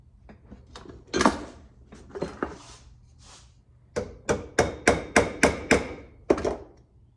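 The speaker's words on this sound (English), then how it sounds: "I'm actually going to use my centering punch" A hammer drives a centering punch into a steel flange with its set screw removed, giving a sequence of sharp metallic taps: a few scattered strikes, then a steady run of about seven evenly spaced, close, ringing blows.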